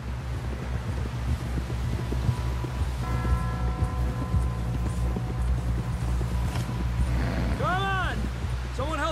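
Horse hooves clip-clopping in Red Dead Redemption 2, a steady walking rhythm over wind and low ambient drone, with a horse whinny toward the end.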